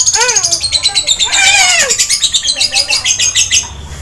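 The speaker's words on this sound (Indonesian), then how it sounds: "Sama burung aja kali ya ngobrolnya." Loud, close bird chirps in rapid repeated bursts with sweeping tweets, continuing steadily and fading slightly at the end, no talk.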